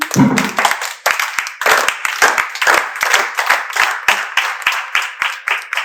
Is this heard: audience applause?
yes